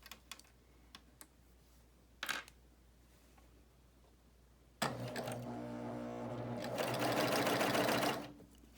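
A BabyLock Euphoria coverstitch machine runs a hem in one sustained loud burst after a few quiet clicks and taps, its motor whirring steadily for several seconds before stopping.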